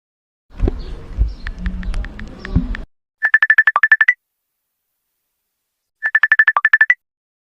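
A mobile phone ringtone plays as a call is placed. Two loud bursts of rapid, even electronic trills are separated by silence, after a brief stretch of talk and rustling.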